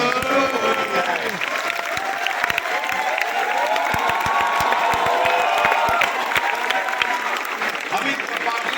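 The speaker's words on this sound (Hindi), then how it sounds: "खड़े होकर ताली बजाओ तो मजा आएगा" A standing audience in a Hindu College hall claps loudly, a dense, continuous roar of applause with cheers and whoops. A voice talks over it throughout.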